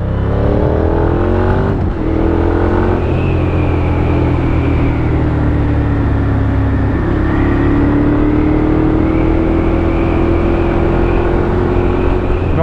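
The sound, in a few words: Moto Guzzi 1200 Griso SE motorcycle engine revving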